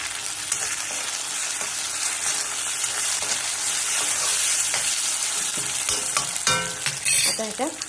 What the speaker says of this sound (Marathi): कांदा चांगला भाजला गेला, अंडी 1-2 मिनिटं भाजली।